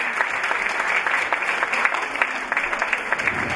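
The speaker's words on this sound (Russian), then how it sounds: "Госпожа Пышечка, ваши аплодисменты." Audience applause at a live show, dense and continuous clapping from a crowd filling the whole stretch at an even, fairly loud level.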